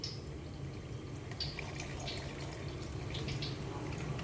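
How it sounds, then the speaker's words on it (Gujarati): Water poured into a thick batter of flour for bread pakoras in a busy food stall, a steady soft liquid splash and trickle running throughout under low kitchen hum. "હજી આપણે બસો ગ્રામ જેવું પાણી નાખી"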